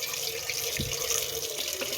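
Water runs steadily from a tap while an air fryer basket is rinsed under it, a continuous close splashing hiss with small shifts as the stream hits the basket.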